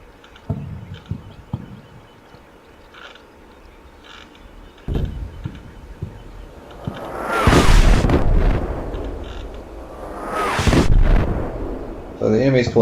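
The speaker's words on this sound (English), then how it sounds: "So the enemy's pulling multiple fire missions here. From high caliber mortars." Heavy, high-caliber mortar rounds land in the Combat Mission wargame, a series of loud, booming blasts with rumbling tails, quieter thumps early on, then two big impacts a few seconds apart.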